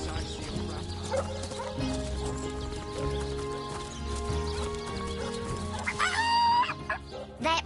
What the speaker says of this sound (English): That rooster thinks he's such hot stuff.